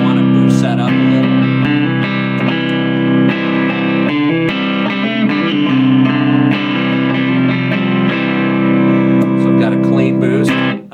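An electric guitar plays through a Roland Blues Cube amp on the clean channel with a clean boost engaged, ringing chords and single notes sounding bright and full, loud and close, with no voice over them.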